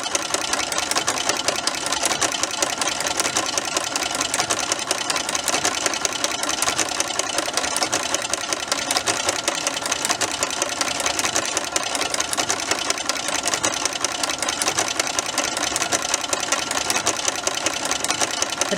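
Brother sewing machine with a ruffler foot running at low speed, a rapid, steady mechanical chatter of needle strokes that continues evenly and close by for the whole stretch.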